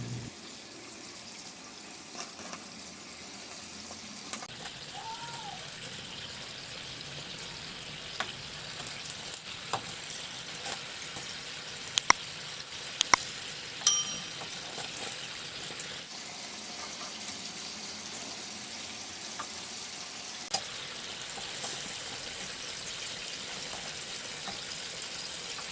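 Fried milkfish (bangus) pieces dropped into a pot of boiling spicy garlic sauce, giving a steady low bubbling and sizzle with scattered clicks and stirring knocks, no one speaking.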